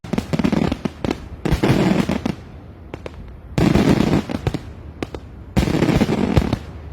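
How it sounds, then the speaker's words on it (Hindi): Wedding fireworks display in Lahore, loud bursts of crackling explosions arriving in several dense volleys separated by short lulls with scattered pops. "लाहौर में होने वाली इस तकरीब में आतिशबाजी का ऐसा मुजाहरा पेश किया गया"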